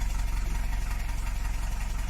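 A rusty Citroen BX engine idles steadily, barely warm, with a low, even rhythmic chugging pulse and no other sounds.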